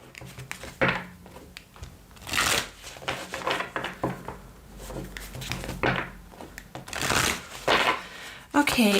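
Advice cards for a tarot reading are shuffled in quick riffling bursts and soft slaps, with several close, crisp flurries across the stretch and a brief rustle at the end.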